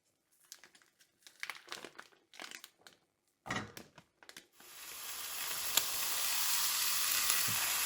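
Sausage frying in a pan for a green chile cornbread stuffing: several seconds of intermittent crinkling and handling noises, then a steady, fairly loud sizzle that continues to the end.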